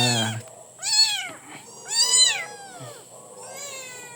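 Several high-pitched kitten meows overlap in quick succession, close and insistent, with a couple of louder cries and softer mews trailing off.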